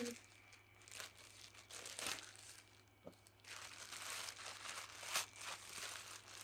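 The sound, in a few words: plastic parcel of ordered slippers being opened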